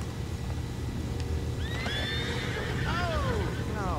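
Horses in the game Red Dead Redemption 2 let out several loud whinnies, rising and falling cries in close succession over a steady low rumble and faint hoof clopping.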